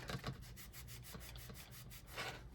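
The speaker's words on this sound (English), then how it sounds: "And then I can continue rubbing them down." Glued paper on a 6x6 scrapbook album gets rubbed down by hand in quick, repeated scratchy strokes, a faint, close brushing rhythm of about a dozen passes.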